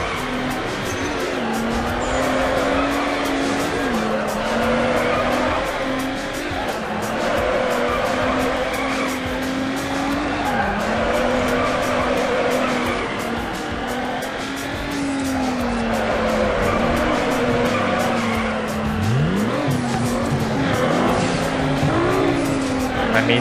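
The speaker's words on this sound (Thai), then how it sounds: "มีเสียงรถแทรกเข้ามานะเกมมันเป็นอะไรไปแล้ว" In the racing game Need for Speed Underground, a Hyundai Tiburon GT's engine drones loud and close, rising and falling with gear changes, while tyres squeal and skid through corners.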